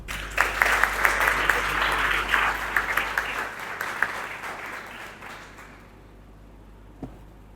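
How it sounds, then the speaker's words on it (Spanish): Audience applause at an evening conference on Paraguayan foreign policy as an ambassador is invited to speak, a full steady round of clapping that tapers off over several seconds before near silence. "para quien pido un fuerte aplauso"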